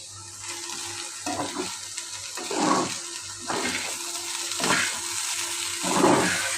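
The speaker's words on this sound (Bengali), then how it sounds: "ওই যে বরবটি ভাজি করছি তো" Yardlong beans fry in a pan with a soft, continuous sizzle, broken by about five louder bursts of stirring and hissing at a regular pace, heard up close without speech.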